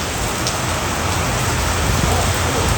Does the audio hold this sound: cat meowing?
no